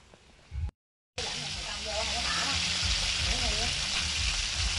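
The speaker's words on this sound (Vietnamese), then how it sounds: "Nay mình chiên sùng nha mấy bạn." Beetle grubs fry in a pan with a steady, close, hissing sizzle that runs unbroken after a short silent gap at the start.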